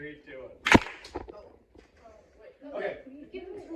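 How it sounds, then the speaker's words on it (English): A group claps once in a single sharp, loud crack, followed by a weaker partial clap, with people talking and chuckling around them at a cookie competition. "No, clap and a half is for third place."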